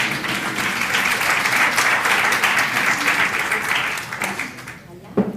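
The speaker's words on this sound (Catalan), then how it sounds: "Fort aplaudiment a la Marga." An audience applauds Marga at an educational practice session, a dense sustained round of clapping that carries steadily for about four seconds before thinning out and stopping near the end.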